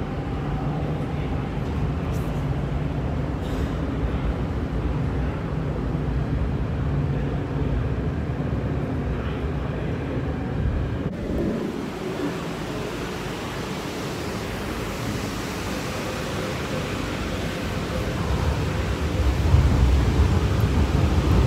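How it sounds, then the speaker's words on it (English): Q train pulling into elevated Lam Tin station, a broad low rumble and rushing roar that shifts midway and swells louder near the end, heard at moderate distance with no voices. "I didn't expect the train would come in. Another Q train."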